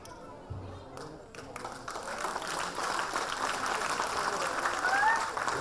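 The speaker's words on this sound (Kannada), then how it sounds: "ನಮಗೆ ಚಪ್ಪಾಳೆ ಬೇಡ, ತಮ್ಮ ಮಕ್ಕಳಿಗೆ ಚಪ್ಪಾಳೆ ಬರಲಿ ಜೋರಾಗೆ ಜೋರಾಗೆ" An audience applauds young children at a school annual day event, clapping that starts sparse and swells into a loud, dense ovation, with a little chatter and faint music mixed in.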